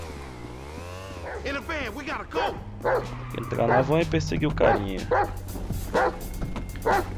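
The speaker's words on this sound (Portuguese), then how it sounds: "O cachorro pelo jeito tá lá atrás." A dog barks and whimpers in the video game GTA V, a series of yips and barks mixed among someone talking over the gameplay.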